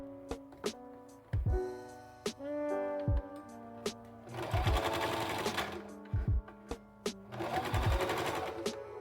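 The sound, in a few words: sewing machine sewing bloomers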